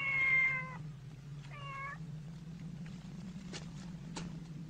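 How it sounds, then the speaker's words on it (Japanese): A cat meows twice in an animated Japanese folk tale from Nagano, two clear drawn-out cries close by over a low steady hum, then a few faint clicks. "猫が家に来て泣いておりました"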